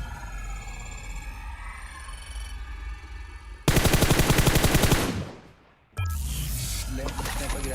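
Rapid automatic gunfire rattles loudly in PUBG Mobile for over a second, then fades and resumes in a steady burst, with game ambience and a voice talking before it.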